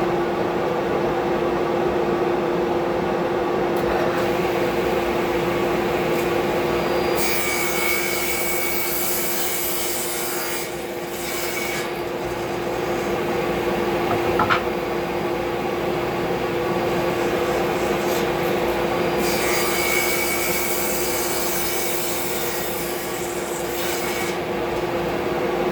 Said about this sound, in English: we should get that cut just by shaving off a tiny little bit of wood